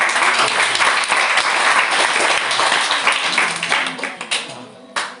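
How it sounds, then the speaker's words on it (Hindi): A group of children in a class claps together in a loud, dense burst of applause that holds steady, then thins out and fades near the end, with a few scattered claps trailing off. "सब लोग ताली बजा दो इनके लिए।"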